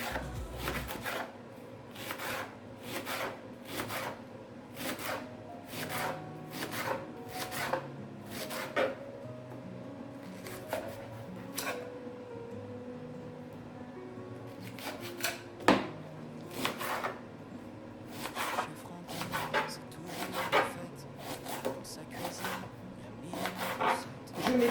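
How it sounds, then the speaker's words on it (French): A knife slicing leeks into thin strips on a board for a cauliflower and leek dish, giving a steady run of crisp, close cutting strokes with brief pauses, no talking. "je vais faire les poireaux en fines lamelles"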